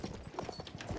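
A horse's hooves clop in a rapid, uneven gallop rhythm in the video game Battlefield 1, close and fairly loud amid game noise.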